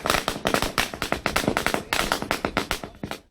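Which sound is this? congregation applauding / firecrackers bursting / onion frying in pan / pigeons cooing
firecrackers bursting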